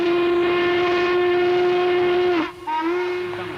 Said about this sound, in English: That lonesome whistle brings them right out of the woodwork